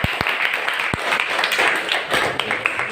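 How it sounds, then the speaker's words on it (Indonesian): A small group claps together in a short burst of applause, with a few sharper individual claps standing out near the start, moderately close and without talk. "Tepuk tangan sama baik-baik."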